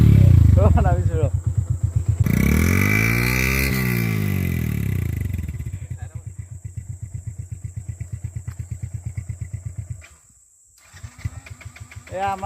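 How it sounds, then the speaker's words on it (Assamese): A motorcycle stuck in mud on a muddy road revs and strains in bursts, its engine note rising and falling with clattering, while people talk close by. "এয়া আমাৰ বাইক ফচি গ'ল"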